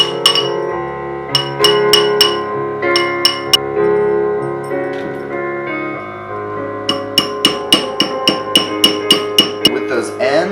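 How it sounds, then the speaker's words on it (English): A small hammer taps lightly on metal ring wire to flatten and harden it, in quick clusters of sharp clinks, growing into a steady rhythmic series toward the end. "So all we're going to do is just lightly hammer on the outside just to flatten and harden"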